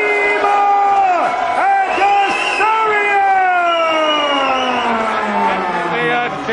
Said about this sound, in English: splits the crowd, equal cheering and booing.